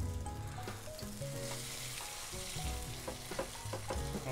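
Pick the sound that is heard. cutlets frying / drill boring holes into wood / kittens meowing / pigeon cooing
cutlets frying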